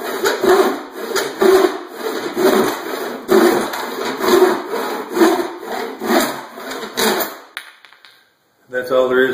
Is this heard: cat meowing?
no